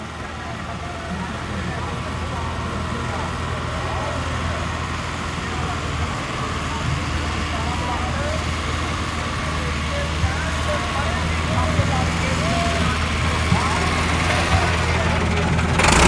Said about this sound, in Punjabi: ਲਓ ਜੀ ਦੋਸਤੋ ਟਰੈਕਟਰ ਦੂਸਰੇ ਰਾਊਂਡ ਤੇ ਜਾ ਰਿਹਾ ਵਾ।